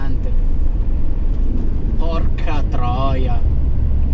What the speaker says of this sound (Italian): Trattore gigante.